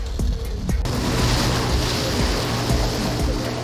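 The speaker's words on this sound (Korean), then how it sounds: "제주도 해상에 고무보트 한 대가 빠른 속도로 물살을 가르며 나타났다." A rubber boat speeds across the open sea off Jeju during a special forces maritime infiltration drill, a steady loud rush of water and engine wash filling the whole stretch without voices.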